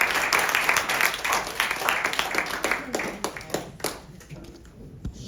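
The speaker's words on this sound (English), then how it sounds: "Can we have another round of applause?" Applause from a seated audience at a poetry reading, dense clapping that builds and then thins out over about five seconds, with a few last scattered claps near the end.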